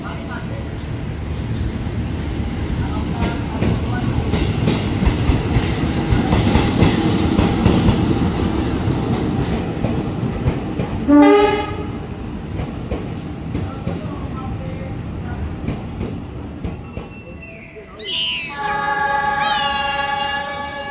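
A train passes at a busy Jakarta station, its rolling rumble and clickety-clack rising and fading, with a loud horn blast near the end and voices around.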